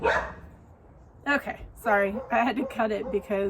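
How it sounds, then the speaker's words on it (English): A neighbor's dog barks outside a home, a short burst at the start, then further barks mixed in while someone talks over them. "you can hear somebody else's dog barking"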